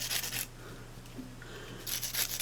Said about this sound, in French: je me sers de la brosse de Stampin' Up pour enlever, et ça s'enlève très bien